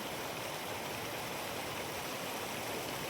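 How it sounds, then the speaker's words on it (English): Fresh water spills from rocks at Zaina Falls in a steady, even rush that fills the whole moment, faint and constant with no voices. "And you can see the water emanates from these rocks right here."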